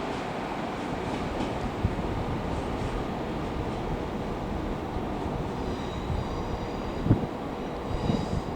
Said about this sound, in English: there goes a pair of 158s operated by Northern